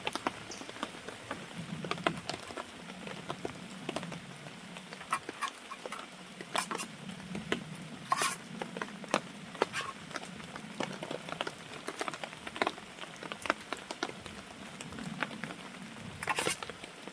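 Heavy rain patters steadily on a hammock camp's tarp and the ground around it, a dense continuous hiss with sharper drops striking nearby, and no talking.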